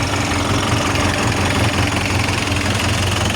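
DF 404 tractor engines run during a tractor contest, a loud continuous diesel rumble with steady low throbbing and rough knocking texture, close and unbroken, with no talking.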